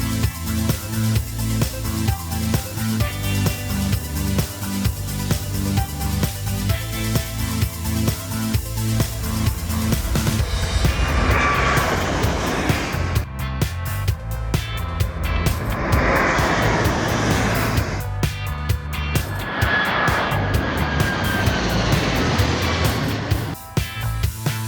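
Aircraft engines hum and roar across an airport ramp, heard steadily from inside a bus, with a broad rushing wash swelling in the second half as planes nearby run up.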